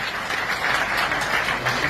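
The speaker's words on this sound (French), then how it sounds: "Applaudissez Ayoka." Steady, continuous applause from a gathered audience, even and moderately loud for the whole short stretch.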